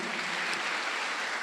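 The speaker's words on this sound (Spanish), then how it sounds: "Sí, dele un aplauso." Congregation applause at a church service, a steady broadband wash of many hands clapping at a moderate, even level for the whole short stretch.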